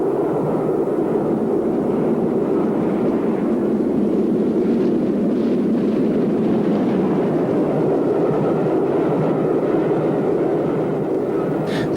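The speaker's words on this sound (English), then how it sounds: "A Black 5 shows one side of its nature on a fast van train." A continuous heavy rumble and rush of a Black 5 steam locomotive hauling a fast van train at speed, steady and fairly close throughout, with no talking.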